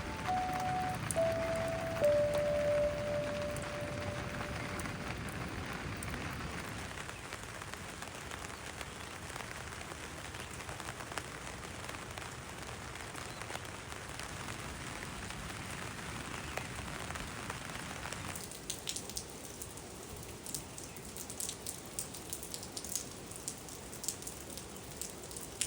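Steady rain patters on a taut gazebo cover at a campsite in the Drakensberg, a dense continuous drumming that shifts slightly in texture partway through, with no voices.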